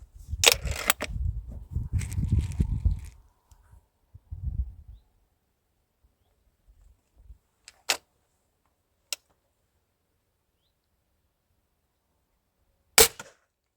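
Sharp, isolated pellet rifle shots ring out, two close together and then a lone crack after a long quiet gap, following a stretch of voices and handling noise.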